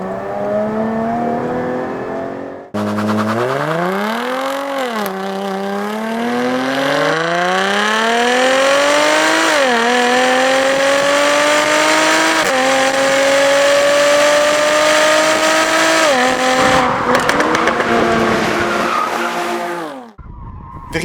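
Jaguar F-Type Coupe V6S on narrow country roads in Walloon Brabant, its engine note climbing through the gears with rising and falling pitch sweeps, loud and close, a brief pause before the run and a throttle lift near the end.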